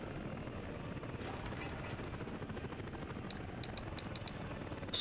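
Helicopter in the city-building game Workers & Resources: Soviet Republic, a steady rotor drone with dense low chopping, close and constant, joined by a few faint clicks near the end.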